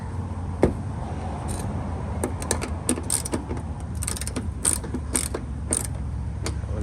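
A ratchet retightens the headlight mount on a 2004 Lexus RX330, producing a series of sharp, close clicking bursts in irregular runs over low mechanical rumble, with no voices.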